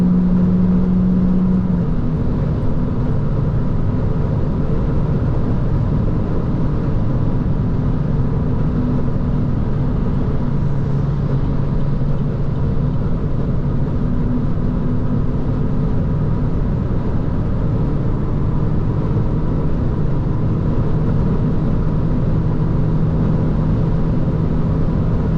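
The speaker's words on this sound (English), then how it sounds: "This is full throttle," An Opel Adam small car held at full throttle at top speed on the Autobahn, giving a steady, loud engine drone with road and wind roar that stays constant throughout, with no talking.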